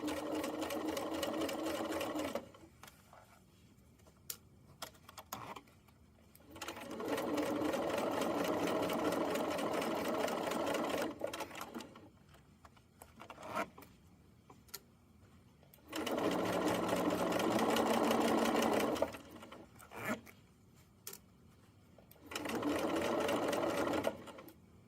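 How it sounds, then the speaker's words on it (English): A sewing machine topstitches the flap of a fanny pack in four steady runs of fast mechanical whirring, separated by quiet pauses. "I'm keeping my fabric lined up with the inside toe of my presser foot as I sew."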